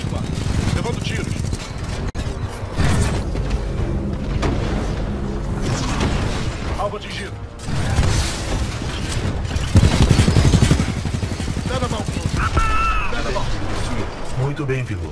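Heavy gunfire in the Titanfall 2 video game as the player takes hits, with dense, continuous bursts, booms and impacts over a full soundtrack while a voice speaks at times.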